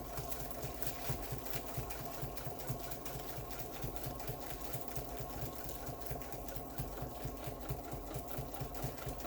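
Continuous close, loud running of a domestic sewing machine doing pantograph quilting on a quilt feeding across a sewing table, a dense even whir with a rapid regular needle beat throughout.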